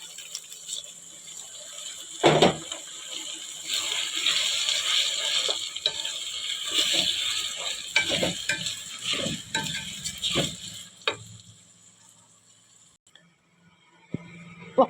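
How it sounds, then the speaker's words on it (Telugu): Rice being stirred into a frying pan of browned ingredients, a continuous close scraping and sizzling with scattered spoon knocks and rattles. "ఇలా వేగిపోయింది కదా, ఇప్పుడు రైస్ ఇందులో వేసేసుకుంటాం"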